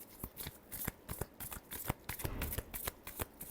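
A tarot deck is shuffled in quick repeated riffles, a rapid run of crisp card slaps and flicks, close and soft, with no voices.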